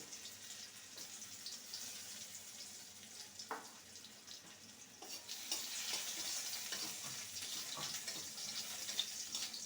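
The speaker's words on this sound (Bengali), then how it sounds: "রসুনটাকে ভালো মতন ভেজে নেবো" Crushed garlic sizzles steadily in hot oil, with occasional scrapes of a stirring utensil; the frying grows louder partway through.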